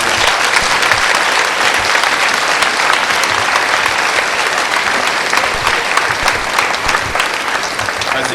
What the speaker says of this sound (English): I'm going to ask the audience to join me in a round of applause for these young men.